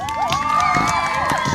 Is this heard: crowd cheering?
yes